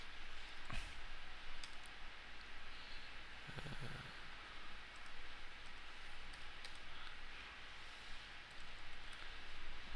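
Typing on a computer keyboard during desktop publishing work: faint, sparse key clicks and taps spread across a quiet room, with a slightly sharper tap near the start.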